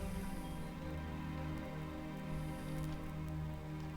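Steady rain from an Amiga adventure game played through ScummVM, a continuous even hiss of falling drops over a low tonal background, faint and unbroken.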